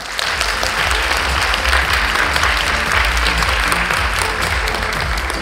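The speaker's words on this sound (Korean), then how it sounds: "여러분 큰 박수로 장관님 맞아주십시오." An indoor audience applauds steadily to welcome South Korea's unification minister at a lecture on North Korea, with dense, continuous clapping throughout.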